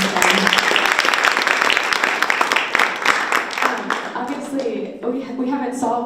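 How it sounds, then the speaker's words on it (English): Round of applause from an audience at a panel discussion on local companies and careers, strong clapping at first that thins out as a voice begins speaking over it. "Let's give them a round of applause."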